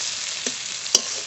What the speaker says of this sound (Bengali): হলুদ একসঙ্গে ভালো করে ভেজে নেব।